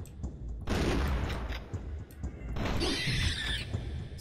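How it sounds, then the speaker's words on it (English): Exploding shotgun shells fire in the video game Turok, two loud blasts with crashing bursts of debris about two seconds apart, each followed by a bright high-pitched ring. "I have like special shotgun shells that I'm currently using at the moment that explode"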